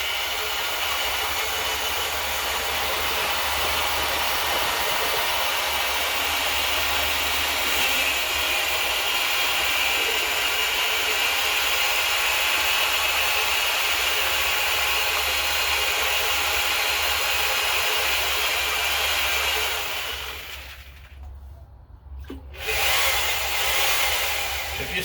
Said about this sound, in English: I don't always put the drill in straight.